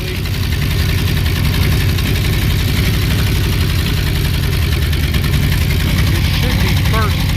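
A Ford 351W V8 mated to a C4 automatic transmission runs on a ground test stand, a loud, steady, rumbling engine drone close by that holds unbroken for the whole stretch.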